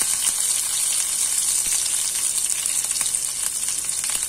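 Garlic and green chilies sizzle steadily in hot oil over a low flame, a continuous bright, hissing crackle heard up close for the whole moment, with no talking.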